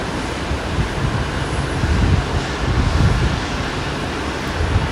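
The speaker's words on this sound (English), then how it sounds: "We have a United E-175 that just came in." United Embraer E-175 airliner arriving at Boise airport makes a steady, loud broadband roar of jet engine noise mixed with wind buffeting, continuous and fairly close throughout.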